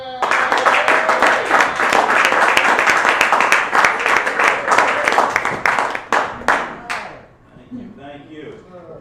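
Sustained crowd applause, loud and dense, with many hands clapping at once before thinning out near the end as a voice begins.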